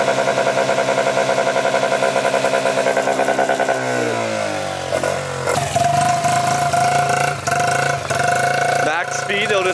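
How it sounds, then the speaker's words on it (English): A Yamaha Raptor 50 ATV's small engine runs loud and close, holding a steady buzzing idle before revving up through uneven pitch changes, with a voice talking over parts of it. "RJ's over here trying to ride this Raptor 50, which I fixed up today."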